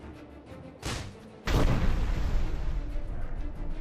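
In Dungeon Siege 3, a heavy cannon boom erupts after a smaller burst, followed by a sustained rumbling roar; a voice briefly speaks.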